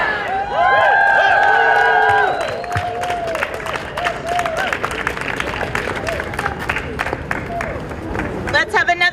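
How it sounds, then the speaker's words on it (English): Crowd at an outdoor press conference for a hunger strike bursts into loud cheering and whoops, then settles into sustained clapping and applause, with voices shouting over it near the end. "Let's have another big round of applause for Congresswoman Presley"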